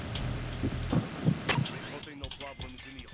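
Heartbeat picked up through a directional microphone in a video game: a series of soft, low, evenly spaced thumps, then fading into sparse clicks and faint chirping tones toward the end.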